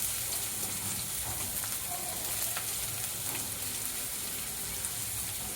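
A dry Manchurian mixture with chopped capsicum is stirred in a hot frying pan, giving a dense, continuous sizzle close by, with faint scraping and stirring movement under it and no voices.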